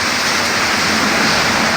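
Heavy rain pours down in a steady, dense wash of noise, close and loud throughout, with no voices.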